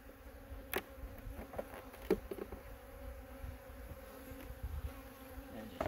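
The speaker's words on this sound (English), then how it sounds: "Quite a few bees." A steady, low insect buzz of honeybees from a laying worker hive hums throughout, with a few louder passes and faint handling knocks nearby.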